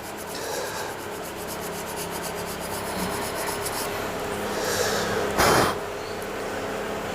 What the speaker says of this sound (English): So I'm just going to give it a sand up, go through the grits